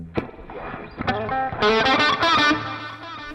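Distorted electric guitar plays short rock licks through a delay effect, a couple of picked stabs followed by a sustained bright run of notes with echoing repeats trailing off, loud and close.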